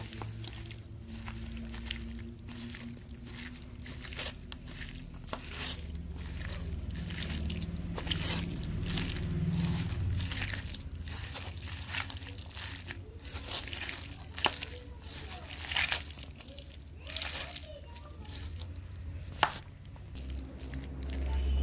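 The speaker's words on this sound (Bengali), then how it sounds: "এখন আমি এগুলোকে ভালোভাবে মেখে নেব" Raw chicken pieces mixed by hand with chili powder and cornflour make soft, wet squelching and squishing sounds. Occasional louder slaps are scattered through a long, continuous stretch of mixing. The sound is close and there is no talk.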